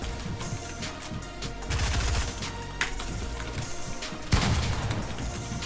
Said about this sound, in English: Saucy with the pump shot, pre-fire